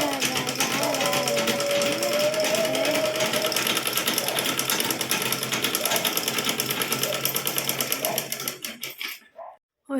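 A sewing machine runs steadily, stitching along the edges of a saree, loud and continuous for about nine seconds before stopping abruptly near the end, with faint background sounds underneath.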